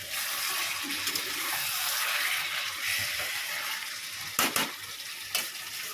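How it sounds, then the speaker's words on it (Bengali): Meat sautéing in a pan for kosha, a steady broadband sizzle throughout with a couple of brief stirring scrapes near the end; no voices. "মাংসটা এখন অনেকক্ষণ ধরে কষাবো"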